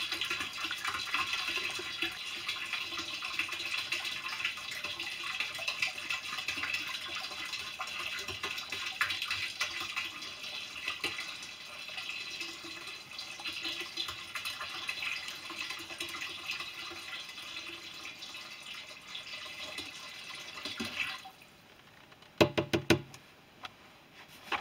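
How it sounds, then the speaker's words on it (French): Vinegar poured into the tank of a Truma CD 400 water heater makes a steady splashing, gurgling flow that stops near the end, followed by a few sharp knocks. "on a mis les 5 litres de vinaigre"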